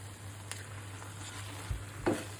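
Chopped garlic frying in a pan with dried fish, a faint soft sizzle with a few light stirring scrapes, quiet and close.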